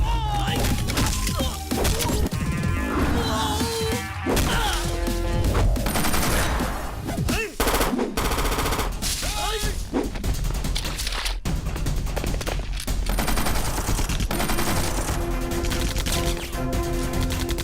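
Gunfire and crashes in a forest shootout in a Hindi-dubbed action movie, dense bursts of shots and impacts layered over loud dramatic music throughout.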